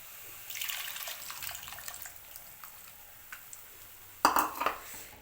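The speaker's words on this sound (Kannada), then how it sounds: "ಹುಣಸೆಹಣ್ಣು ನಾನು ನೆನೆಸಿಟ್ಕೊಂಡಿದ್ದಲ್ಲ ಅದನ್ನು ಚೆನ್ನಾಗಿ ನೋಡಿ ಕಿವುಚಿದ್ದೀನಿ ಇವಾಗ ಇದಕ್ಕೆ ಡೈರೆಕ್ಟಾಗಿ ಹಾಕ್ತೀನಿ" Soaked tamarind water being poured into a pan of coconut rasam, a close splash and trickle of liquid that rises to a louder burst near the end.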